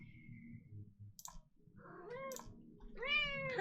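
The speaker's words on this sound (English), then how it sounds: "My cat is saying hi." A pet cat meows a few short, rising calls close by, with light clicking sounds and quiet background noise.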